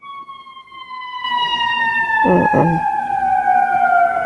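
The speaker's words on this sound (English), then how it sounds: "Come on, sirens." Emergency vehicle sirens outside, a long sustained tone with slowly falling pitch that rises in loudness after a quiet start and holds steady, with a brief murmur from a person over it.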